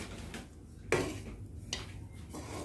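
A spoon scrapes and clinks in a pan while spicy lemon rice is stirred, with soft, close, irregular knocks and one sharper clank.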